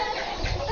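A native country chicken (nattu kozhi) on a farm clucks softly in a brief, faint burst, close by and without talk.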